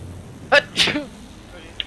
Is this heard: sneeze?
yes